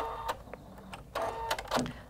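A Husqvarna Viking Designer Brilliance 80 embroidery machine starting to stitch, with faint mechanical clicks, whirs and brief beeps at close range, quiet and intermittent.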